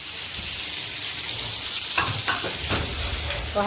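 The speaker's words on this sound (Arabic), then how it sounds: "وكده انا قلبتها اهو لما حطيت في ايه قرنين الفلفل وشويه الثوم بودره وشبت" Chili peppers and powdered garlic frying with dill in a pan, a loud continuous sizzle close by, with a few scraping stirs near the end, no voices.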